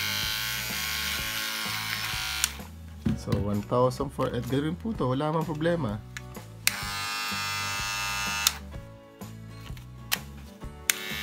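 A Kemei electric foil shaver running with a loud, buzzing, rattly motor whine that carries on throughout, while someone talks over it for several seconds in the middle.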